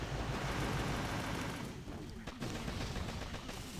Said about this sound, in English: chuck 1 artillery straight onto that boom mine and that will get rid of everything around